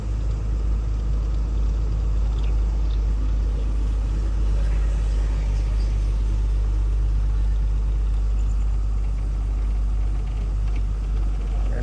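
A car creeps along slowly, its engine giving off a steady, deep, close rumble throughout, with a fault that makes it puff black smoke.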